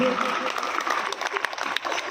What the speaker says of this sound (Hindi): एक बार मुझे ताली बजा के आशीर्वाद कर दीजिए।